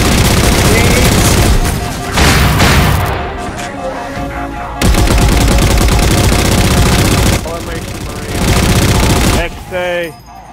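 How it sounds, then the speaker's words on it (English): Heavy bursts of gunfire and booming blasts from a Halo 4 co-op mission, loud and near, coming in long sustained volleys separated by brief lulls, with voices talking over the action. "I'm trying to shoot everyone, but this is kinda hard"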